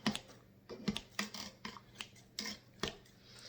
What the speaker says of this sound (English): I'm going to go in with my cooking scissors, my cooking shears,